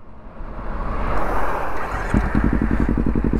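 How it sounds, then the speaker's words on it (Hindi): A Kawasaki Ninja 300 motorcycle fires up after a brief starter whir and settles into a loud, close, evenly pulsing idle. "भाई साहब सिंगल टच में गाड़ी स्टार्ट हुई"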